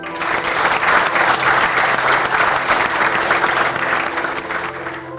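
Sustained audience applause from a large crowd at a presentation, a dense steady patter of clapping that holds for several seconds before easing slightly at the end.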